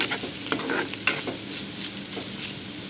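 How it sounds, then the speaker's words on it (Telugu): Carrots frying in a pan, a continuous close sizzle and hiss broken by a few sharp stirring scrapes and clicks of a utensil. "మెత్తగా అయిపోయేంత వరకు వేయించుకోవాలన్నమాట ఫ్రై ఏగిందా లేదా చూద్దాం"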